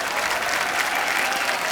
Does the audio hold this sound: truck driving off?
no